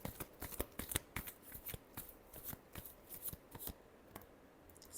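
Tarot cards are shuffled by hand close up, a run of crisp, rapid papery riffles and slaps in an uneven rhythm, heard alone.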